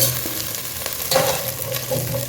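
Garlic cloves sizzle and fry in hot oil in a pan while a fish head curry is being made, with a steady close crackle and a brief louder burst as they go in, no talk.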